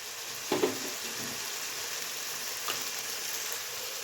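Large tomato pieces dropped into hot oil for vetki fish curry, a sudden splashing sizzle at the drop and a softer clink later, then a steady, close frying hiss with no talk.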